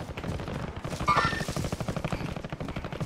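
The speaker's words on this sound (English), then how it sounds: "They're shooting like northwest." Rapid automatic gunfire from an online shooter video game, a dense run of muffled bursts with a brief louder swell near the middle.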